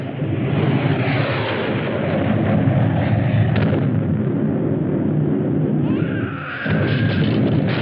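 Weapons fire during a bombardment scene in a 1954 science-fiction film, a dense continuous roar of blasts and rumbling barrage that stays loud throughout, with a higher whining tone rising near the end.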